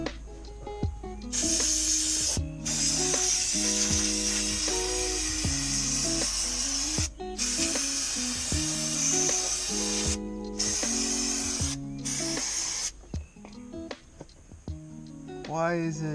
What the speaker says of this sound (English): Let's get the brake clean.